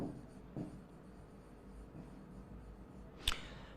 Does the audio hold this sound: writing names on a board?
yes